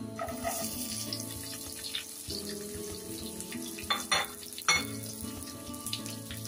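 Onion cubes frying in a pan for chilli paneer, a steady close crackle with a few louder clatters and bursts from stirring midway, and no talk.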